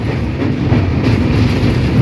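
The Tamil Nadu Sampark Kranti Express, 12651, runs at speed between Madurai and Delhi, and a steady loud low rumble rolls on with no pauses, heard from inside the train.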